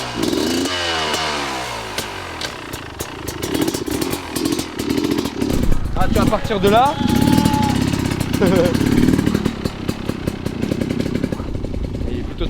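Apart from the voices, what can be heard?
off-road motorcycle engine riding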